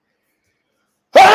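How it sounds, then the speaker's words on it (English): A single sudden sneeze bursts out near the end, close and loud after a long stretch of silence, sharp at onset and breathy with a brief voiced tail. "I have to sneeze."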